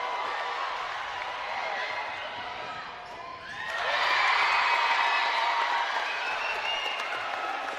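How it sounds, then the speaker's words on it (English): A high school basketball crowd at Mineola vs Chapel Hill roars after a block. A steady hum of the arena lifts into a loud, sustained cheer midway and holds at full volume to the end. "the crowd goes wild"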